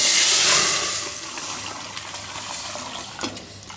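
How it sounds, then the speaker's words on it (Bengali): Water poured into a pot of dal while cooking to thin it out, starting as a loud close gush that tapers into softer trickling and splashing. "ডালে একটু বেশি পানি দিছি"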